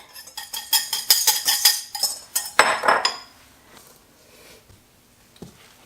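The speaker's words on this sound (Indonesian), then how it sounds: "Menggunakan balloon whisk karena lebih mudah. Kita aduk sampai rata." Balloon whisk beating cake batter in a bowl for a pandan chiffon cake, quick metallic clinks and scrapes in a fast rhythmic run that slows into a few scattered taps before fading quiet.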